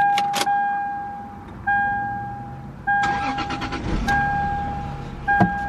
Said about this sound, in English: I'll go ahead and turn on the car for you guys.